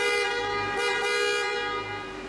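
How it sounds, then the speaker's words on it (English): A Ferrari F50's horn gives a single sustained, fairly bright honk that holds steady for about two seconds before easing slightly at the end. "you have the horn,"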